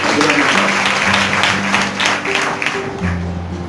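A church congregation at a Sunday service claps loudly and steadily for several seconds, the applause dense and continuous and slowly easing toward the end.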